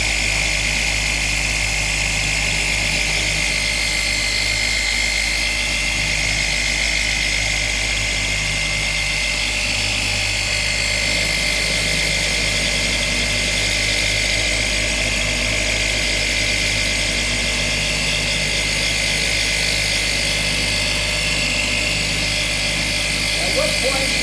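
A car polishing buffer runs on paint with a constant loud droning hum and vibration that holds steady throughout, while people talk over it.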